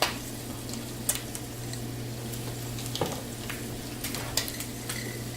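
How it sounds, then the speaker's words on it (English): Spelt is stirred into a pot of broth soup, a soft continuous simmer and bubbling under faint scrapes and a few sharp clinks of the spoon against the pot, quiet and close. "And you add your spelt now."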